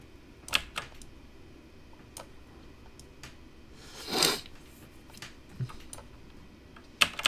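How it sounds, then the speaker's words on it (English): Computer keyboard keys clack in scattered, separate taps during a shooting video game session, with one longer burst of rapid keystrokes near the middle, fairly close and moderately loud, and no talk. "you probably can hear my keyboard"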